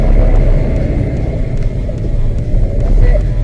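A drift car spins a donut around a track at Rockingham, its engine a loud, steady, close rumble with no pause.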